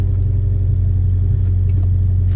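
A manual car fitted with a VMS short throw shifter idles with the clutch held in, giving a steady, close, low engine rumble that stays even throughout.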